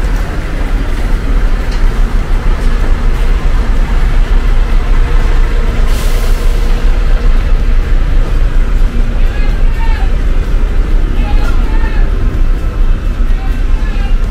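A Rosalia Indah double-decker bus, fleet number SDD 164, rolls in at Pondok Pinang with a loud, continuous engine rumble and road noise that hold steady throughout, close to the listener, with a brief hiss partway through.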